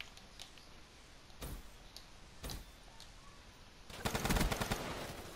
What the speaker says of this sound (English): I shot three bullets and I stopped